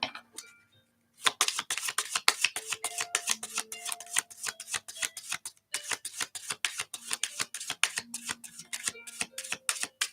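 A deck of angel cards shuffled by hand, rapid crisp riffling and flicking of cards in quick repeated bursts, close and fairly loud, with a brief pause near the start and midway.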